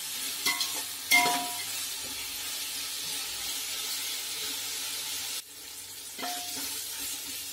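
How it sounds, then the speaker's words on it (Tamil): Onions with salt sauté in a pan for chicken biryani, giving a steady close sizzle with a few scraping stirs near the start and again near the end, and no talking. "வெங்காயம் இந்த அளவுக்கு வதங்கிட்டோம்."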